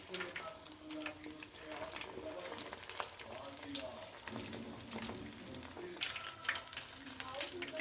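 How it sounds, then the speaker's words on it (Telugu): Chilli garlic bites and french fries fry in oil, a faint, steady sizzle with small crackles and occasional clinks of stirring, with some soft talk mixed in. "ఆయిల్లో ఇందాకే ఈ chilli garlic bytes, French fries అవి వేసా."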